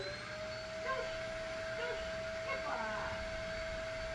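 A vacuum cleaner running at a steady level with a constant whining tone and a low, continuous motor hum, joined by faint voice-like sounds in the background.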